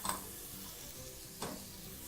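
Quiet stirring of curry powder and turmeric in a frying pan, a soft steady sizzle with a couple of faint scrapes of the spoon against the pan, close and alone.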